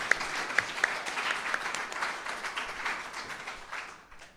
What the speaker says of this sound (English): So, round of applause for Kayla.